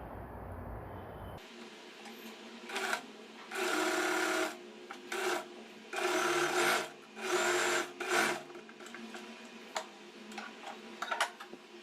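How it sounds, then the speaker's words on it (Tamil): A sewing machine stitches a folded trouser hem in several loud bursts of rapid whirring and ticking. Short pauses and quieter handling sounds come between the bursts. "அப்படியே வந்து மெஷினில் வச்சு ஒரு ஸ்டிச் வந்து நம்ம பண்ணிக்கலாம்"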